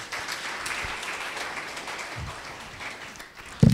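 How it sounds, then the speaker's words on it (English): Audience at a public lecture on youth and governance in Kenya applauds the panelists, a steady mid-level patter of clapping throughout, ending with a short thump. "Kindly, let's applaud our panelists."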